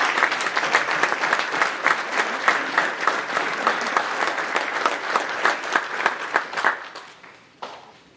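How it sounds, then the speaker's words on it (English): A crowd at a high school scholastic awards ceremony gives a sustained round of applause, with close, dense clapping that thins out and tapers off near the end. "I'd like to take another moment to have a round of applause for Mr. Stainbrook's speech"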